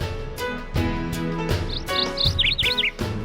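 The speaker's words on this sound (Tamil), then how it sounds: "சிறிய பறவையான சிட்டுக்குருவி" Quick, high sparrow chirps come in a rapid cluster of short tweets over a louder background of music with rhythmic beats.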